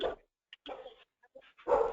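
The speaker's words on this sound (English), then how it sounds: "You had a dog issue there?" A dog barks in several short, separate bursts, with louder barks at the start and end and quieter yips between, fairly close and with no talk over it.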